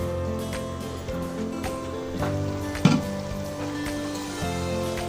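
Steady sizzling of country chicken frying in a pan, with a few scraping stirs and a brief clatter of a utensil against the pot.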